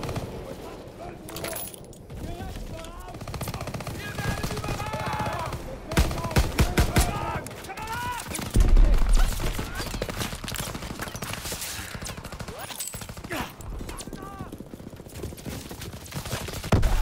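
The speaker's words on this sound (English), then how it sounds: "MGs hitting us!" Call of Duty: WWII combat with sustained machine gun bursts and rattling gunfire continuing throughout, loud and dense, under shouted voices of soldiers.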